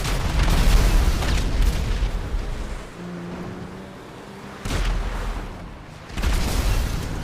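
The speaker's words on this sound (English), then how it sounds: "When they actually lock onto the enemies, the Deluxo's missiles are actually quite useful" Deluxo missiles exploding in GTA Online, heavy rumbling booms filling the scene, with a quieter lull in the middle before two fresh loud blasts surge in near the end.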